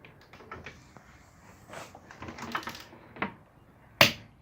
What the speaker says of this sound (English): when it makes a click like that, it's torqued up